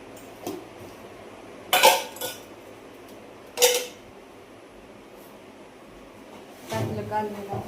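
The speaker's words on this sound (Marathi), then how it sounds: "भांड पाडलं तिने." A metal cooking pot drops and clangs sharply in a home kitchen, with two loud metallic crashes a couple of seconds apart and a softer clatter at the end, over low room noise.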